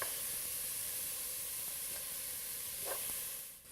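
Tomatoes and garlic sizzle steadily in a hot pan while a spoon presses and smashes them against the side, a close, continuous frying hiss with a brief scraping knock near the end.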